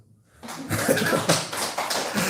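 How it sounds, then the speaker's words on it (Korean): Church congregation applauding at a pastor's call during a sermon on thanksgiving, a steady patter of clapping rising after a short quiet start and holding moderately loud throughout. "박수 한번 주세요"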